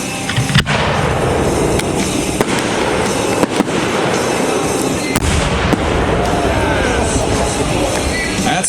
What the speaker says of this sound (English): Now we're going to shoot a couple of smaller shells here.